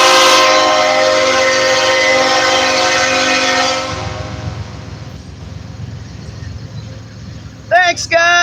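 A loud train horn blares close by in a sustained chord for several seconds, then fades under rumbling wheels as the train passes; voices speak briefly at the end.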